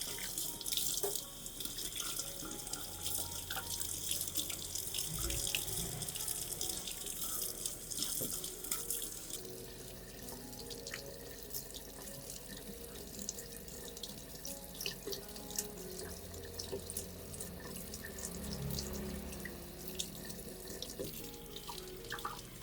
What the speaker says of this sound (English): Rinse the entire plant with clean water to remove any remaining bacteria and fungi on the stem.